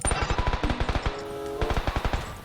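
Automatic gunfire in the battle royale video game PUBG, rapid evenly spaced bursts of loud shots with a short pause in the middle, then another quick volley.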